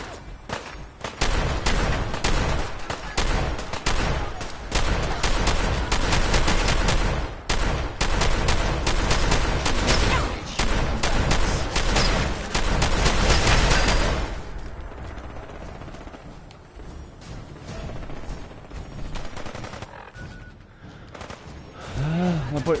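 Rapid bursts of gunfire from the video game Fallout 4, played on PS4 with the Woodlands mod, crackle densely and loudly for about fourteen seconds, then give way to quieter ambience with a few scattered distant shots.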